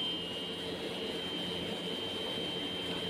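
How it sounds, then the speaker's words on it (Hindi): A drilling rig bores a solar tube well into sandy ground, its engine giving a constant loud, even mechanical drone with a steady whine throughout and no voices. "ये हम सोलर ट्यूबवेल का बोर कर रहे हैं।"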